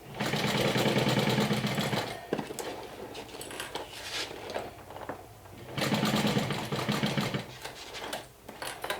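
A sewing machine stitches the fabric lining of a Nintendo Switch case in two loud, fast whirring runs, with quieter fabric handling and light clatter in between.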